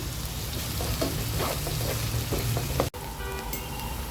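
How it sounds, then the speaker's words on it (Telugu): Sliced onions frying in hot oil with ginger garlic paste added, a steady dense sizzle with scraping stir strokes and a brief sharp drop near the end, no voices. "ఇలా ఉల్లిపాయలు వేగుతున్నప్పుడే కొద్దిగా అల్లం వెల్లుల్లి పేస్ట్ వేసుకోవాలి"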